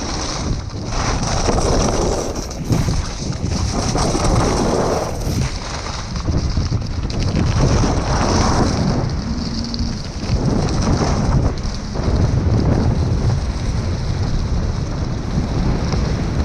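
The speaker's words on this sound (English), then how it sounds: "The wind was really ripping out of the south today" Strong south wind roars steadily across a ski slope with dust-on-crust snow, a constant loud buffeting rush with gusty surges and rumbling across the whole clip, no voices.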